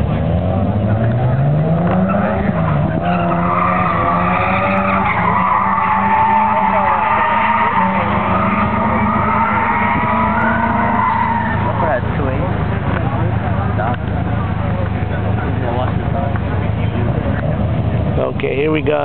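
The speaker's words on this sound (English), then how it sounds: "Oh, on the grass. Whoa, what a spin out." A car drifts and spins out onto grass, its engine roaring loudly throughout with squealing, skidding tires, while a person talks excitedly over the noise.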